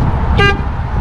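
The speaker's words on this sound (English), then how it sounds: "That's a nice horn." A boat horn gives one short, loud toot close by, standing out briefly over steady low engine and wind rumble.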